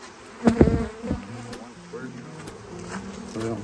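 Honey bees buzz around a hive lid during a beekeeping session, a close, steady insect drone with a few louder bursts of handling noise near the start and soft talk underneath.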